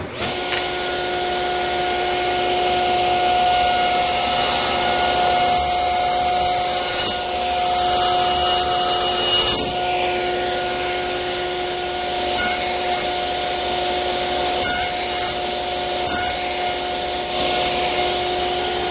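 A hand saw cuts shoulders to form wooden tenons for a media press, making a steady rubbing, rasping sound that continues throughout with small surges, close up, with no voices.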